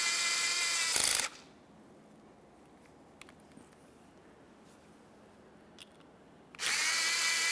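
A power drill drives the window regulator mounting screws on a 2011-2020 Toyota Sienna: two short, loud whirring bursts, one at the start and one near the end, with a quiet stretch between them.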